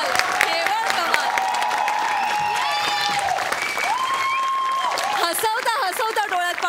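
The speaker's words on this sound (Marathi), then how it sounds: "जोरदार टाळ्या" Applause from the studio audience of a Marathi comedy sketch show, sustained clapping mixed with music and voices throughout.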